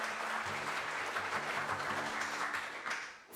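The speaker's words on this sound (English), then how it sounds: "So please give a big round of applause to Jess." An audience applauds steadily for a speaker at a talk on Hackney's homes and houses, a sustained wash of clapping that fades slightly near the end, with no voices over it.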